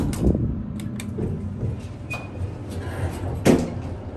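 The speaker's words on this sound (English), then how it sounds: "These are Dover Traflomatic 4 from 1993." A 1993 Dover Traflomatic IV traction elevator door slides and rumbles in a quiet lobby at Mays Business School, with mechanical clunks, a brief chime-like tone, and a louder thump as the door finishes moving.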